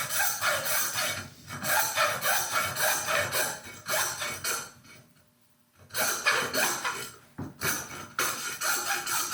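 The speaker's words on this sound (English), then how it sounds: "sawing through the bone." Rhythmic rasping strokes of a hand saw cut through game animal bone, with a brief pause before the steady back-and-forth sawing resumes.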